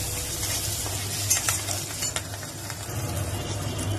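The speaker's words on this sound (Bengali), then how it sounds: "এই তেলেই আমি দিয়ে দেবো কালো জিরে, কাঁচা লঙ্কা" Nigella seeds and green chilies in hot oil for a bottle gourd and shrimp curry, a continuous close sizzle with occasional clinks and scrapes of a utensil stirring in the pan, without talk.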